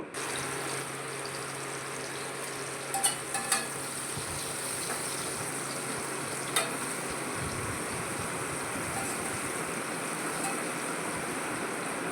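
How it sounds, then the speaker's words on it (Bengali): Potatoes coated in salt and turmeric fry in leftover oil, giving a steady, moderately quiet sizzle that runs throughout with a few brief clinks near the start. "অবশিষ্ট তেলের মধ্যে নুন হলুদ মাখানো আলুগুলো দিয়ে এবার ভেজে নেব"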